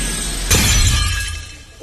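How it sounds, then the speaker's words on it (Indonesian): A crystal ball shatters in an anime, with one sharp, loud burst of breaking glass that rings out and fades over about a second. "melihat bola kristal hancur, membuat semua orang yang ada di sana terkejut dibuatnya."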